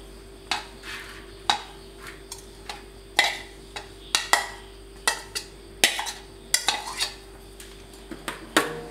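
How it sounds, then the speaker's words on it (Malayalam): Grated coconut stirred into melted jaggery in a heavy pan, with quiet repeated clicks and scrapes of the spoon against the metal in a loose, quickening rhythm over a faint low hum. "അതിൻ്റെ പിന്നാലെ ചുരുണ്ടി വെച്ച തേങ്ങയിട്ട് ഇളക്കുക."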